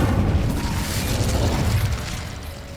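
Incendio fire spell blast in Hogwarts Legacy, a loud booming burst with a rumbling low roar that holds for a couple of seconds and then eases off.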